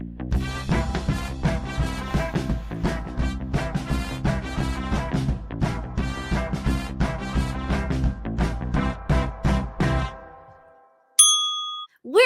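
A bright notification-bell ding rings out alone near the end, a short high chime after a stretch of music, then a second ding begins as the clip closes.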